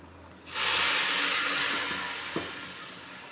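Curry leaves, garlic and cumin tempering for sambar sizzle loudly in hot oil, a sudden burst of close, bright frying that starts abruptly and then hisses steadily, slowly easing.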